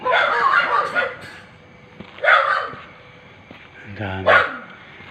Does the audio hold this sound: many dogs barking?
yes